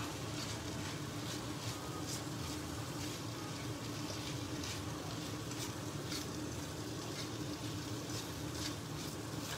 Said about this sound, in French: Ici, on est en train de faire chauffer ces oignons.